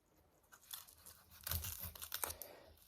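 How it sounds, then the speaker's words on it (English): A knife cuts an onion in half on a kitchen surface, giving a few close, crisp crunching and tearing sounds that build in the middle and end of the cut, with no talk. "So I'm gonna cut this in half. So I might just show y'all how to chop an onion."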